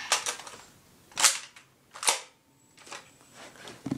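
Nerf toy pistol test-fired, giving several sharp snapping shots spaced about a second apart, close and crisp against a quiet room.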